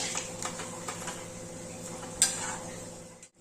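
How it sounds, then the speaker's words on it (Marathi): Wheat-flour shankarpali fry in hot oil with a steady bubbling sizzle under a faint background hum. Occasional light scrapes and clinks of a utensil in the pan break in, and no one speaks. "गोडी तळून देऊया तिला"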